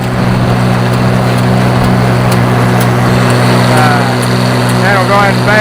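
An Oliver 1800 tractor pulling a 129 haybine mows hay in a field. It makes a loud, steady engine drone that runs without a break, with a low rumbling hum underneath.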